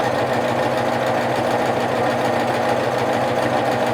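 A sewing machine stitching a hem under three needles runs continuously at a steady, rapid whir with a fine mechanical chatter, close and even throughout, with no voices.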